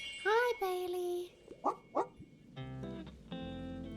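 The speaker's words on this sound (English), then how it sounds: "I love our dog." A small dog in the Tiny Bookshop video game gives a few whimpering yips and short barks, then a couple of sharp bow-wows, close and clear, followed by soft game music tones.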